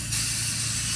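Gold spray paint hisses steadily from an aerosol can in one continuous close burst, loud and unbroken.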